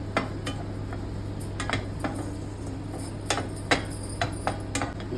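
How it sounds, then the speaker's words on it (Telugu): Tamarind dry-roasting in a pan for Andhra chutney podi, heard as scattered light clinks and scrapes of a spatula against the metal pan over a steady low hum, with no voices. "తీసుకున్న చింతపండు కూడా కొంచెం ఫ్రై చేయాలి బాగా"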